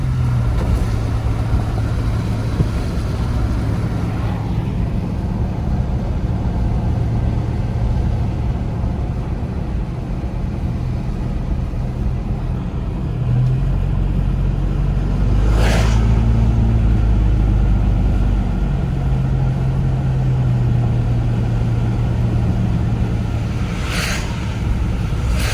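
A car drives steadily along a lakeside road during a spring snowstorm in Big Bear, California, with a continuous close engine and tire drone that rises in pitch as it accelerates midway.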